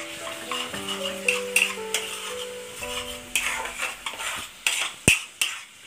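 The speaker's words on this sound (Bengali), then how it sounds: "এটা দিয়ে এবার আমরা এই যে গরম মশলাটা রেখেছি সেইটা দিয়ে দিলাম এবার এটাকে একটু আগে নেড়ে দিচ্ছি" A metal spoon stirs garlic and garam masala in a pan for egg rezala, scraping and clinking in uneven strokes, close and fairly loud, with a faint sizzle underneath and no talking.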